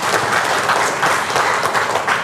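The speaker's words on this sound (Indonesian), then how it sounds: "Tepuk tangan buat kita semua sekalian ya." A seminar audience at a business presentation applauds together, a loud, even burst of massed clapping lasting a couple of seconds with no speech over it.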